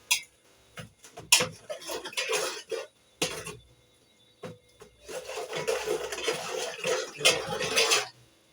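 A spoon scraping and knocking in a pot while stirring tomato puree with chicken seasoning, in repeated bursts of rubbing and clinking with short pauses, close and moderately loud.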